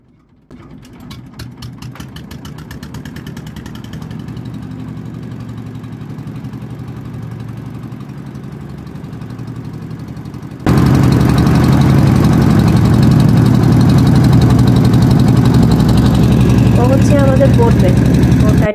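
A trawler boat's engine chugs and idles steadily nearby, then grows markedly louder and rougher partway through as it revs up, with faint voices in the background.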